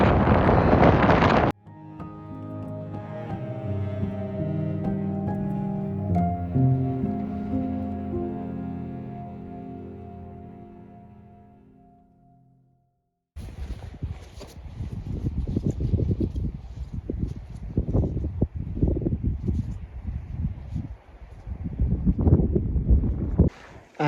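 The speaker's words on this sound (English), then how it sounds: "It's really getting cold and the wind is really strong" A strong, cold wind rushes across a Norwegian mountaintop, buffeting the microphone in loud, uneven gusts through the second half, after a brief blast at the start and a calm musical stretch.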